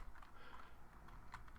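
Faint, quick keystrokes tapped on a computer keyboard, heard as a short run of soft clicks.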